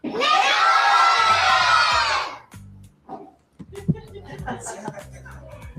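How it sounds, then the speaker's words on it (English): A crowd of children screams and shouts together at the top of their lungs for about two seconds, loud and sustained, then breaks off into scattered quieter voices and background noise. "children were encouraged to scream Nickelodeon at the top of their lungs to get the director's attention"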